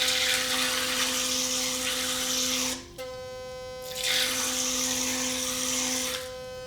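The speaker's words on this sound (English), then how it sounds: "And water is going everywhere." A running Philips Sonicare electric toothbrush buzzes loudly with a high, steady hum and sprays water, cutting out briefly near the middle before starting again, with no voices.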